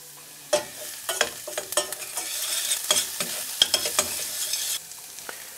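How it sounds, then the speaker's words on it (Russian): Onion sautéing in a pan for a quick tomato soup, a soft sizzle broken by repeated scraping stirs and clicks of a utensil, close up with no talking. "Лучок пассируется, значит, я немножко добавляю соли"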